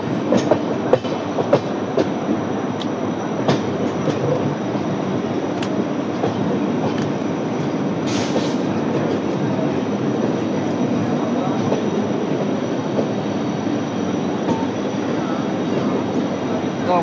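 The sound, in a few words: train with WDP4B diesel locomotive entering loop line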